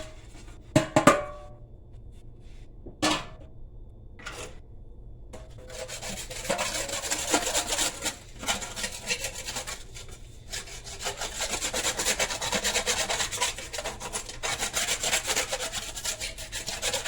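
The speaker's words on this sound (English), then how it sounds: "Now I'm going to just get some of the gunk off of it." Scraping scale and gunk off a tin used for making char cloth on a stove, a few sharp knocks first, then a continuous rough rasping scrape building and holding close by.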